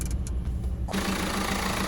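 A 2009 Renault Megane 1.5 diesel engine cranks briefly and catches, then settles straight into a steady, even idle with a low clattering rumble, close and loud.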